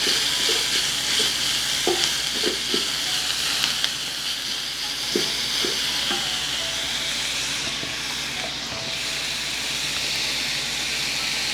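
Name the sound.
tempering curry leaves and dried chillies in hot oil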